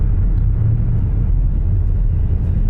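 Steady low engine and road rumble inside a moving 2008 Buick Lucerne, loud and continuous with no voices over it.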